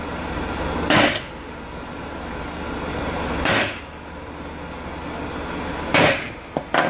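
A hammer knocks a center punch into a metal bus patch panel to dent hole marks, three single sharp metallic taps spaced a few seconds apart, close and clear over a steady low background hum.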